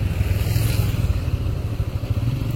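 A motorcycle engine idles and putters in traffic, a close, steady rumbling drone with a rapid uneven pulse throughout.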